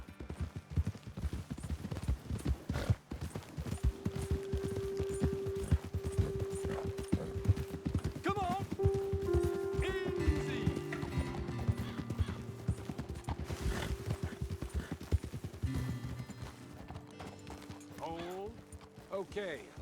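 Horses clip-clopping and galloping along a trail in Red Dead Redemption 2, steady close hoofbeats running throughout with an occasional whinny, while someone talks over them and music plays underneath.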